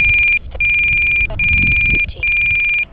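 A loud, high electronic alarm, presumably the voltage alarm on an RC airplane, repeats sharply. Four long, steady beeps are broken by short gaps over low rumbling background noise, with no speech.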